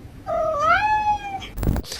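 A cat gives one long, drawn-out meow that rises and then slowly falls, close and clear, followed by a short knock or thump.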